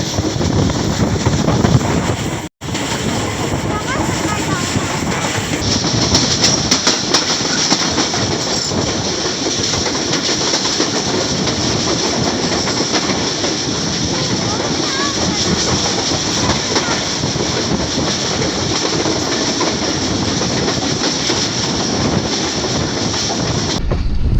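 The Awam Express passenger train climbs a curved track between Lahore and Taxila, a loud close rumble of wheels and carriages with rhythmic clatter and wind buffeting, under a voice.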